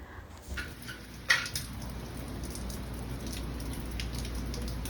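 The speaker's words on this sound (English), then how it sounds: "I'm sure you can hear the rain in the background" Steady rain patters down outdoors in a vineyard, a broad continuous hiss at moderate level with a few louder nearby drops and a brief knock early on, with nobody talking.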